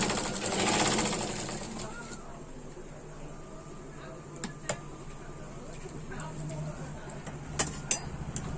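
A sewing machine runs while stitching a lehenga, a brief loud burst of rapid mechanical whirring at the start, then quieter handling clicks and taps, with a voice speaking over it.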